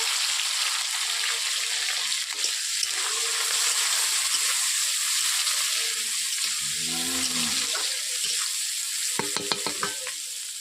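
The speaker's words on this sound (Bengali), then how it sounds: "আমি পেঁয়াজগুলো একটু বেশি ভাজা ভাজা করবো না" Onions and green chillies fry in oil in a wok with a steady, fairly soft sizzle, broken by a few clanks and scrapes of stirring toward the end.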